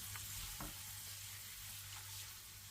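Coriander, turmeric and Kashmiri red chilli powder frying in a pan, a steady low sizzle with a few soft stirring scrapes, heard alone.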